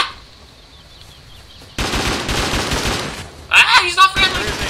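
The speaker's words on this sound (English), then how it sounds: "I hear gunshots!" Gunfire in the video game Rust: a quiet start gives way to rapid bursts of automatic gunfire, followed by sharper, louder shots with excited voices mixed in.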